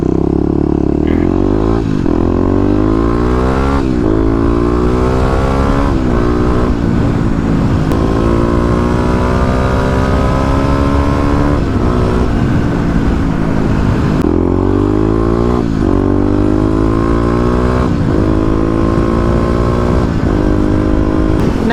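Loud, close 2018 Kawasaki KLX250 dual-sport motorcycle engine revving up and down through gears in repeated surges, with some clatter as the bike rides along.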